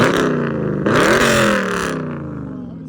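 A Dodge Challenger Scat Pack with a 6.4L V8 and an aftermarket exhaust revs up loud and close, rising in a deep rumbling burst before settling back toward idle.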